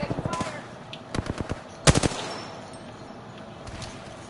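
Gunfire in the Apex Legends video game comes in rapid automatic bursts and a few sharp single shots, loud and close at first, then trailing off, with faint background game noise between volleys.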